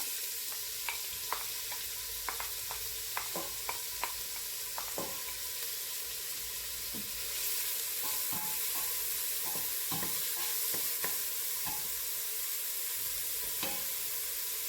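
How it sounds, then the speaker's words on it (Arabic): Chopped onion and garlic fry gently in oil for a Moroccan vegetable and shrimp soup, with a soft steady sizzle and scattered clinks and scrapes of a utensil stirring the pan, fairly quiet and close. "غادي نشحر البصله مع الثومه"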